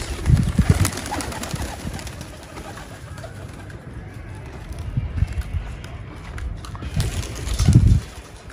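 Pigeons coo nearby in low, soft bursts near the start and again near the end, with faint shuffling and quiet background between.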